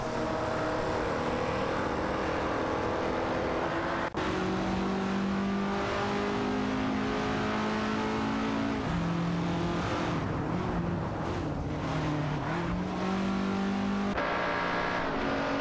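Ferrari 250 GTO and Alpine A100 and 1800 race cars roar together in a racing game, a dense layered engine drone with rising and falling revs and gear changes throughout, loud and continuous with no voices.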